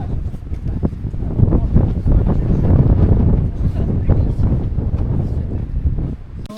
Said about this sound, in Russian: И все равно ветер, никуда не спрятаться.